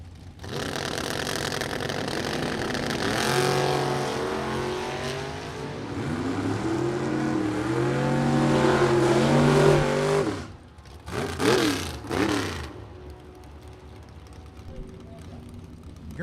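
A drag race pits a '74 Pinto against the Froggy Camaro: two engines rev and roar loudly with rising, climbing pitch, then cut off abruptly, followed by a couple of short revving bursts as an announcer talks over them.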